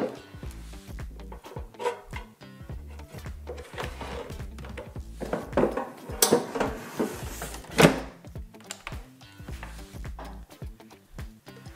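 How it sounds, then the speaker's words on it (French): Air fryer drawer slid back into the machine in a home kitchen while bacon, cheddar and mozzarella rolls are cooking: a busy run of close, moderate clacks, scrapes and knocks over several seconds. "Donc maintenant, je replace le tiroir."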